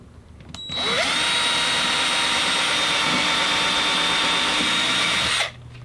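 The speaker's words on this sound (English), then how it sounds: "we'll drill the first hole." A power drill bores a hole in a drone frame for a Y6 multirotor kit, spinning up after a brief click and whining loudly and steadily for several seconds before stopping abruptly.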